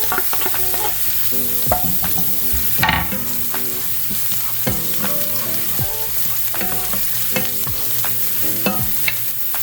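Green onions and garlic sauté in a pan with a steady sizzle, while a utensil scrapes and clinks repeatedly against the metal, loud and close. One sharper clatter lands near the third second.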